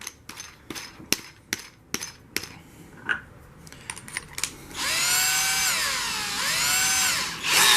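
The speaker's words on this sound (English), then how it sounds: "I'm gonna set up my drill on a very slow." A series of sharp taps and knocks gives way to an electric drill whirring steadily at slow speed on an Arrma Kraton 8S 1/5 scale RC truck, its pitch dipping and rising as it slows and speeds.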